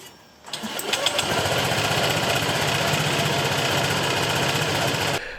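Honda SH 125 scooter engine starting up and idling to warm up, a loud, close, steady rattling putter that settles into an even idle for several seconds before cutting off.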